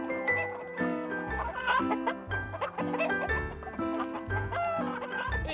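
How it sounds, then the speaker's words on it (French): Cartoon farmyard hens clucking as they return to the farm, a busy overlapping chorus of bright, rhythmic clucks and squawks, loud and close, with no talking. "on dirait que toutes ces poules ont retrouvé le chemin de la ferme"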